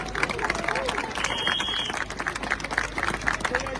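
Crowd applause and clapping fill the clip, dense and steady, mixed with cheering and chatter from a large gathering of Polish restaurant workers and farmers.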